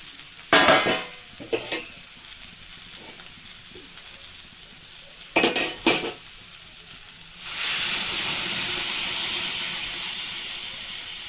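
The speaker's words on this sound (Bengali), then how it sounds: "এবার আমি এতে জল ঢেলে দেবো" Water poured into a pan of jackfruit and potato curry sets off a loud steady hiss that lasts several seconds, after a few sharp clanks and stirring knocks at the start.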